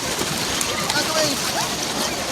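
Man-made waves in a waterpark wave pool slosh and splash in a steady, fairly loud wash of water, with scattered voices and crowd noise mixed in.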